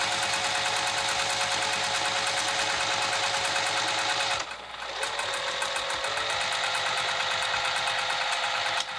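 A sewing machine runs steadily on a velveteen boxy pouch, its rapid even stitching rattle loud and close, with a brief pause midway before the motor picks up again.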